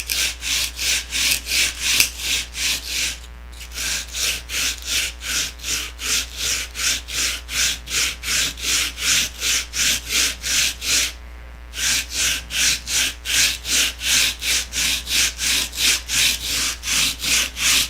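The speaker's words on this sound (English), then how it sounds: "this is happy little sanding" Wood being hand-sanded with coarse 80-grit sandpaper for a stabilizer build, a steady rhythmic back-and-forth rasp of quick even strokes, close and loud, pausing briefly twice before resuming.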